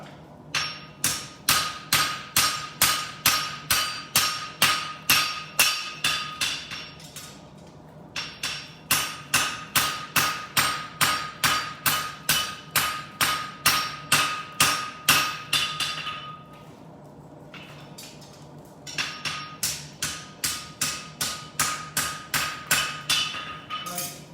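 Steady, rhythmic hammer blows flattening metal ring out in long runs of rapid strikes, with two brief pauses between bursts. No voices.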